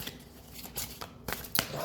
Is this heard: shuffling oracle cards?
yes